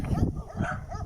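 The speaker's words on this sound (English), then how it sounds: "man, just tons of dogs up here" Dogs bark around hilltop homes in North Frigate Bay, a couple of short, close barks that come in quick bursts over a brief moment, with a little background noise.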